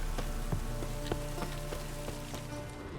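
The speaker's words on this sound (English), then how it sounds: "Oh, it's gonna rain." Rain starting in Novigrad in The Witcher 3: Wild Hunt, a soft, steady patter with scattered drops over a low game ambience.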